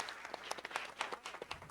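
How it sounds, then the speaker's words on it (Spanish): An audience at a panel discussion and closing ceremony applauds, a brief, fairly quiet patter of many hands clapping in a hall with no voices over it. "les quiero pedir un aplauso para Jesús"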